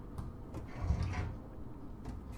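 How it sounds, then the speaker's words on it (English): A sliding door opens in the video game Subnautica with a mechanical whoosh and soft thuds, heard alone over a low ambient hum. "we can open this door here."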